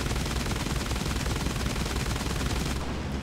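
In War Thunder, a Fokker T.V bomber's forward guns fire in a dense, continuous rapid burst, loud and close, a sustained rattling stream of shots that cuts off abruptly near the end.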